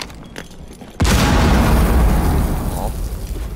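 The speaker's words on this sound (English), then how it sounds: "Grenade out." A grenade explosion in Rainbow Six Siege, a sudden loud close boom after a second of quieter ambience, followed by a long rumbling decay of debris and echo.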